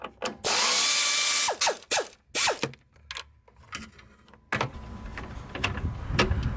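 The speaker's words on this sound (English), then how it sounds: "let's take out the radiator bolt" A hand ratchet and power tool work a radiator bolt loose on a Jeep Wrangler JL, with a long loud whirring burst followed by a string of sharp clicking bursts and metallic clatter, close up, no talking.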